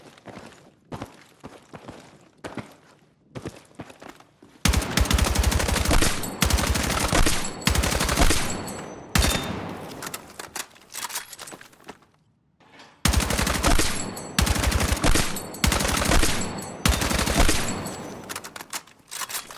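AK rifle fitted with a red dot sight and vertical grip firing in the video game Battlefield 6: loud, rapid sustained automatic bursts separated by short pauses, with softer movement sounds between them.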